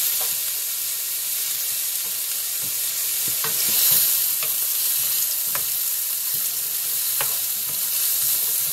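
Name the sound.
onion frying and being stirred in a pan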